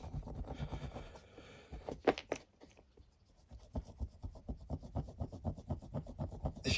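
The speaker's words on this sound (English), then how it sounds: "keep rubbing" A dirty WWII medal is rubbed clean in quick, faint scratching strokes, a few scrapes first and then a steady rhythmic run of short rubs.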